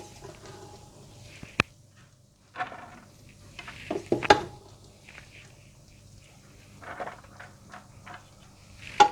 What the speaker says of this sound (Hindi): और अब मैं चावल और सब्जी को सर्विंग डिश में निकाल लूँगी।